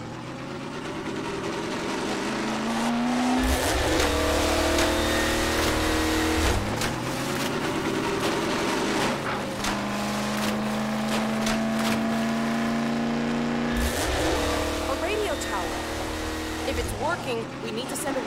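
A vehicle driving down the road in the video game Half-Life 2, a continuous loud engine drone with rising gear shifts and rattling bumps throughout, voices talking over it.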